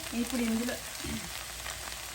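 Peanuts, dry red chilies, curry leaves, urad dal, mustard seeds and cumin sizzle in hot tempering oil, a soft, steady fry under a brief voice at the start.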